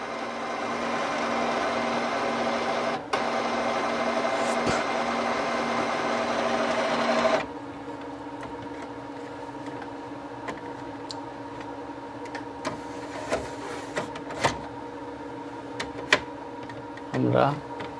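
Epson L805 inkjet printer charging ink: a steady mechanical whir and hum for the first several seconds, then a quieter hum with scattered ticks and clicks, and a voice speaking near the end.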